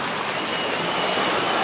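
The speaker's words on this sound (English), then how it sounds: "Crowd trying to play their part." Stadium crowd at an AFL match between Geelong and Port Adelaide, a steady broad roar of cheering and clapping filling the air without a break, moderately loud and distant in character.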